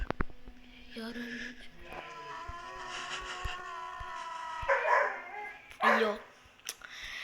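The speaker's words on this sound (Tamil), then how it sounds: "வெளியில் ஒரு நாய் ரொம்ப நேரமாக இங்கேயே இருக்குது" A dog barks outside a house at night, sharp yaps and whimpery yelps at mid-distance, heard through tense nearby talking and an exclaiming voice.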